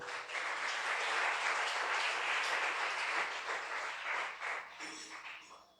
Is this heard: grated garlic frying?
no